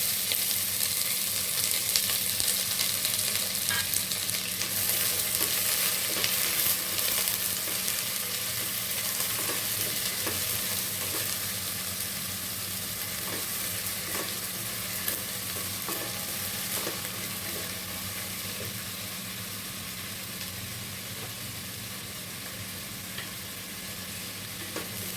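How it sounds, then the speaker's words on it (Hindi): Chopped onions frying in a pan for a healthy mixed vegetable curry, a steady close sizzle with repeated scraping stirs throughout, no voices. "वो 2 प्याज मैंने उसमें डाल रही हूँ।"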